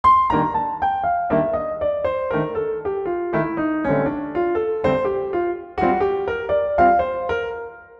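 A brisk run of single notes on a piano playing a jazz bebop scale sequence, descending and then climbing in quick stepwise lines, clear and up close, with no voices.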